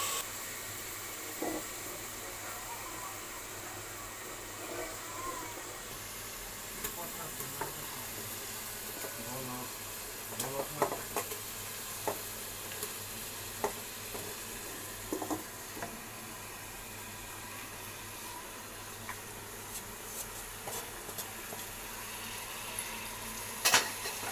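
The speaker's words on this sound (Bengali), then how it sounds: "গরুর মাংসটা দিয়ে একটু নাড়াচাড়া করে কষিয়ে নেব" Beef sizzling in a pan while a utensil scrapes and stirs, with irregular clanks and scrapes over a steady frying hiss.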